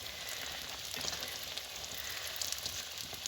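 Rounds of pişi dough fry in oil over an open fire, giving a dense, continuous hiss and crackle close by and at an even level, with no voices.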